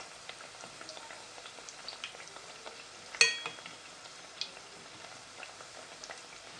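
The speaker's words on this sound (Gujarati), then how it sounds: "આવી રીતના ચમચીથી હલાવી નાખવાના." Ghughra fry in hot oil while a spoon stirs them, a soft continuous bubbling sizzle with light scattered ticks and one sharper metallic clink near the middle, quiet and close, with no talking.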